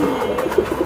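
A Nuttel pigeon coos close by in a soft, low, rolling burble that runs continuously through the brief moment.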